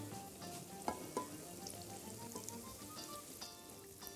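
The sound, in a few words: corn dogs frying in plenty of oil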